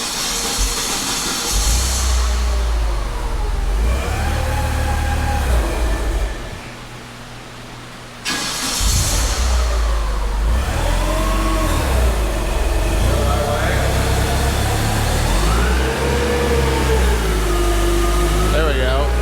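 Forklift engine running steadily close by while its auxiliary hydraulics drive a lift on an attached auger, with a short dip in the middle before the engine noise picks back up; a voice speaks over it at times.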